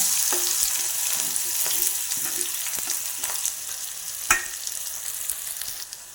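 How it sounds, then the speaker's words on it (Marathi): Onion frying in hot oil with cinnamon sticks and green and black cardamom for a Bombil (Bombay duck) biryani, a steady sizzle throughout with a few sharp crackles and pops, no voices. "आता आपण कांदा टाकूया"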